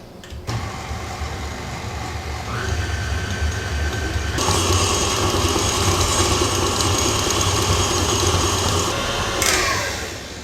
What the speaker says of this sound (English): we're going to put this in the mixer with the butter and the sugar. And we're going to let that spin for about 5 minutes